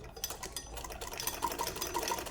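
A sewing machine running a seam along a sleeve during a stitching lesson, a rapid whirring, rattling chatter of stitches with short bursts and a steady rhythm, close and alone.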